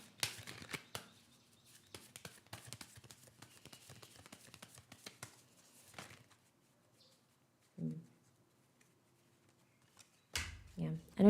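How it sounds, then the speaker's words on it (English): Tarot cards shuffled by hand during a reading, a quiet run of rapid papery riffles and flutters lasting several seconds, followed by a pause and a few isolated soft card handling sounds, with faint speech at moments. "I don't usually shuffle like this"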